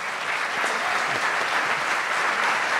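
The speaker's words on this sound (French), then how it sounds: "On peut l'applaudir bien fort." A French television studio audience claps warmly for a guest who is a singer and musician, a dense, steady burst of applause that stays loud and even throughout, with no voices over it.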